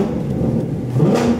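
Corvette engine idling and revving steadily up close, a continuous rumbling whir with a slight rise near the end, no voices over it.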